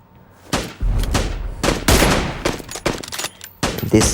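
Sharp, loud gunshots from an M24 sniper rifle in PUBG Mobile ring out as several separate cracks with short gaps between them, up close and with no speech over them.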